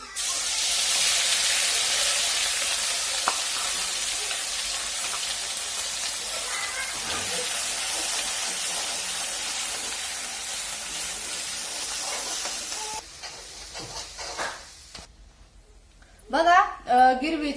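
Drumstick pods sautéing in a pan give a steady broad hiss of sizzling oil for most of the stretch, then fade as a voice speaks near the end.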